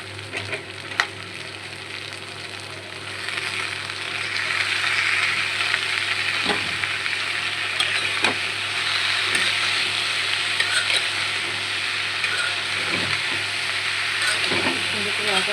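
Sliced bitter gourd (karela) frying in oil in a pan, a steady loud sizzle with occasional scrapes and knocks of a spatula stirring it.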